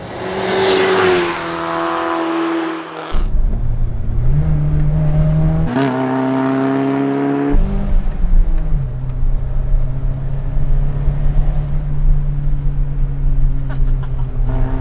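A turbocharged 1974 BMW 2002 with a hot-rodded M3 powertrain accelerating hard, its engine note rising through gears with brief drops at each shift, loud and close.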